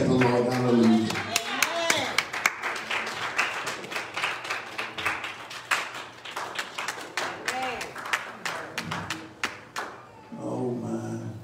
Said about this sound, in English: Would you stand and clap your hands and we'll thank the Lord.